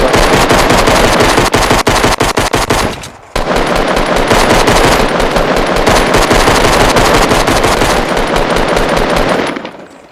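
Minigun firing in a shooter game, a loud fast rattle of rounds in long sustained bursts, a short pause and then a second extended burst before it trails off.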